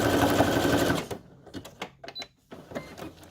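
A sewing machine stitches journal tags in a fast, close, loud rattling run that stops after about a second, followed by a few short intermittent bursts of stitching and mechanical clicks.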